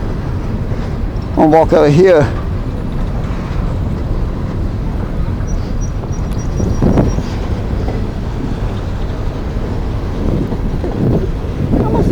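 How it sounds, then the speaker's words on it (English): A long coal train rolls past at Mount Hope, West Virginia, its continuous rumble of wagons mixed with heavy wind buffeting the microphone, while someone talks briefly over it. "I'm gonna see if I can get to the railroad crossing before the last car of the train passes me."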